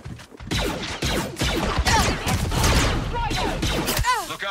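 Blaster fire in Star Wars Outlaws during a fight with stormtroopers: a dense, continuous volley of rapid shots, loud and sustained, with zapping tones near the end.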